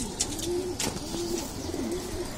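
A khoira gola pigeon coos in a soft, repeated rolling call, three or four low phrases in a row against a steady background hiss.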